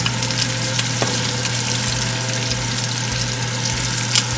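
Pork liver, cooked adobo style, fries in a pan with a steady, dense sizzle and crackle close by. It keeps going without a break, with a low hum running underneath and no voices.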